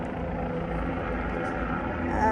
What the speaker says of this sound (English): Man, that helicopter.